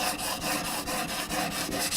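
Shears being sharpened on a 600 grit stone, a steady rasping scrape repeated in even back-and-forth strokes along the full length of the stone, close and continuous with no talking.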